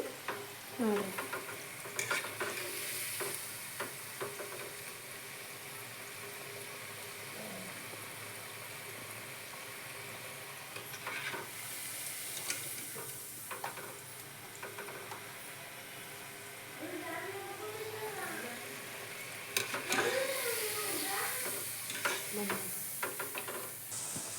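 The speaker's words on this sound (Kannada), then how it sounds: "ಈಗ ಇವು ಎಲ್ಲ ಫ್ರೈ ಹಾಕೊಂತಾವ್ರಿ ಹಾಕೊಂತಾವ್ರಿ ಇದ್ರೊಳಗೆ ಸ್ವಲ್ಪ ಮ್ಯಾಗ ತಿನ್ನಕ್ಕ ಇವ ಬೆಳ್ಳುಳ್ಳಿ ಹಾಕ್ಯಾರ ನೋಡ್ರಿ" Chopped onions and garlic fry in a pan with a steady sizzle and repeated stirring and scraping; faint voices are heard in the background.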